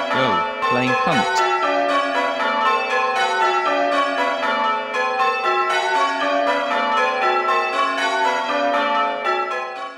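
Many sampled church bells triggered together through MIDI, a dense, sustained wash of overlapping ringing tones with steady loudness throughout, preceded by a brief low thump at the start.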